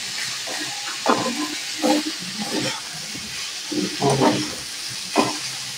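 Pre-fried eggplant tipped into a pan of cooking radish greens, giving a steady hissing sizzle throughout, broken by a few louder bursts of stirring and clatter.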